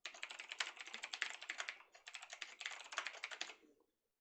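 Rapid typing on a computer keyboard, dense irregular key clicks in two bursts with a brief pause between, close and fairly quiet, no voices.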